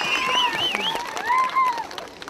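Crowd clapping at a jaripeo rodeo during an annual village fair in Oaxaca, mid-distance and scattered, with a loud tonal whistle or call sweeping repeatedly over it and faint voices in the background.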